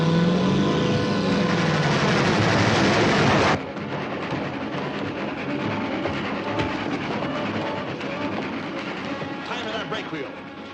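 A train rumbles loudly along the tracks, a continuous heavy roar with rhythmic clatter and voices faintly mixed in.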